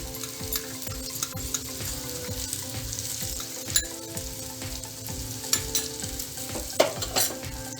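Salted bitter gourd pieces fry in a pan with a loud, close, continuous sizzle, broken by soft scraping stirs and occasional sharp crackles, with no voices.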